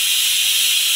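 A pressure cooker on a stove, cooking greens with dal and tomatoes, lets out a loud continuous hiss of escaping steam, close and steady with no break.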